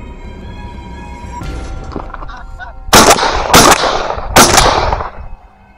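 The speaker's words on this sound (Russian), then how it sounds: "Три выстрела, и 2 серых падают замертво" Three loud shotgun blasts in quick succession, sharp and close, while hunting greylag geese in eastern Germany, following faint honking of geese in the background.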